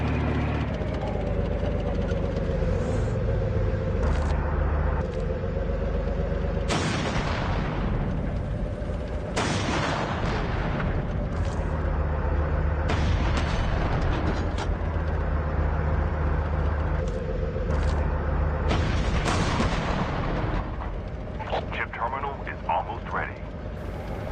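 A tank cannon fires repeatedly during a COD Mobile battle royale match: heavy booms at irregular intervals over a constant engine rumble, with a person talking throughout.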